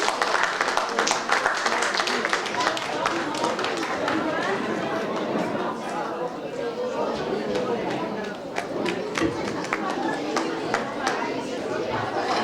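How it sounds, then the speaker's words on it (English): Applause from the audience at a Chinmaya Mission Guwahati Annual Day celebration, a steady wash of clapping mixed with crowd chatter that holds at a constant level throughout. "May we have a huge round of applause, please?"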